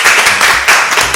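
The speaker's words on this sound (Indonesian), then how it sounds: "Tepuk tangan dulu dong buat kita semua." A podcast crew of about fifteen people clapping together in a studio, a short loud burst of close hand claps lasting about a second.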